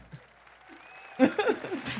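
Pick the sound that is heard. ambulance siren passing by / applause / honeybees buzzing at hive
applause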